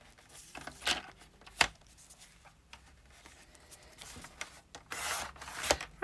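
Cutting a paper tag book down the centre gives close, irregular rasping and scraping strokes with a few sharp snips and rustles, no voices.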